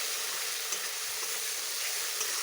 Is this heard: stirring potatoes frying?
yes